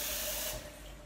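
Water poured onto a hot pan in an oven beneath baking whole wheat bread bursts into a loud, steady hiss of steam that eases slightly after about half a second.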